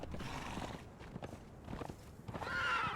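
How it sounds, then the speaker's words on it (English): A horse ridden into people in the game Conan Exiles, with clip-clopping hooves, a whinny and dull thudding impacts in a busy, fairly loud mix. "that just happens when you run into people with a horse. It makes a meaty thwack"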